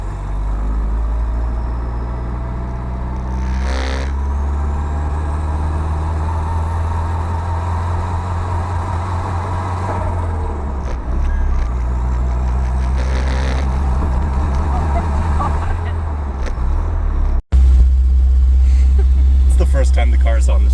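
Heard from aboard a Nissan S12 with an SR20DET engine on a street, the engine gives a loud, continuous low rumble and idle-like drone that rises and falls with driving, and it cuts off abruptly near the end before resuming heavier.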